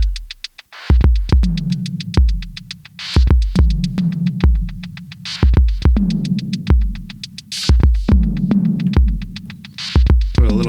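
A steady electronic drum beat from an ARP 2600 synthesizer with punchy kicks, snappy hits and a booming tom with reverb, looping in a tight repeating rhythm with no voices.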